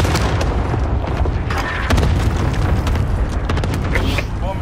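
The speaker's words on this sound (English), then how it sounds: "Friendly cluster strike inbound." A cluster strike in an online multiplayer shooter: a rapid string of booming explosions and pops rolling on for several seconds, loud and close, with players talking over the blasts.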